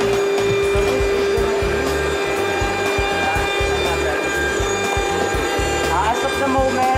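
A CNC router cuts through 18mm MDF board, a loud, constant grinding whine with a rapidly pulsing low chop, steady throughout, with a voice partly audible underneath.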